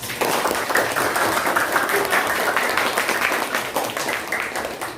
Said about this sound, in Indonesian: Tepuk tangan dulu buat Bapak